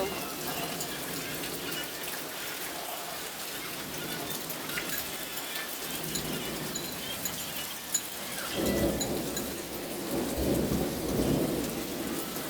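Steady rain patters down after a hot spell in Bangladesh, with low rumbles of thunder rolling in later, loud and near.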